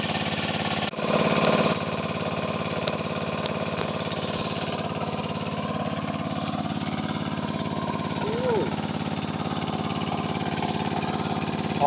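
An engine-driven water pump drains a pond, its steady mid-pitched motor drone running continuously and fairly loud throughout with no clear speech.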